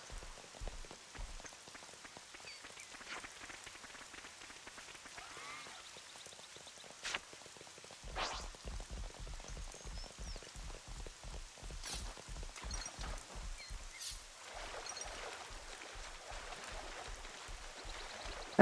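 Rain patters steadily on surfaces in Xenoblade Chronicles 3, a soft, continuous hiss of scattered drops that grows denser and louder about midway through, with no voices over it.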